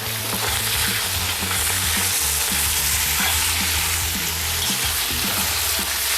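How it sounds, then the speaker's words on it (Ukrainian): Smoked pork brisket frying in a cauldron, a steady loud sizzle and crackle of hot fat with occasional spits and stirring, continuous and close with no voices. "Зразу після ребра накладаю в казан грудинку копчену."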